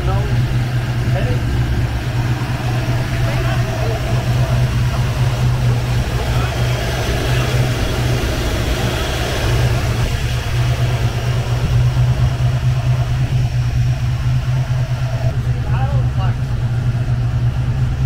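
A car engine with walnut-blasted Cobra valves idles steadily, a loud, constant low hum with a rough mechanical texture lasting throughout, while voices come and go over it.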